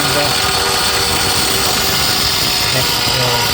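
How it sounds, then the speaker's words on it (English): An Erbuaer EAG900 115 mm angle grinder fitted with a diamond blade cuts into tiles on a work site, a loud, continuous high-pitched whine that holds steady from start to finish. "There I'm just drawing a line with a diamond cut blade on for the tiles"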